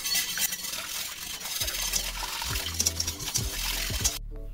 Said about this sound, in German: So, und solange das Wasser noch kalt ist, muss man das umrühren.